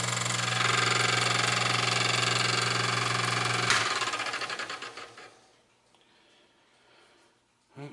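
Grinder shaping a form tool used to make multi-tooth cycloidal clock cutters, a steady loud motor whine with grinding noise that spins down and fades to quiet near the end.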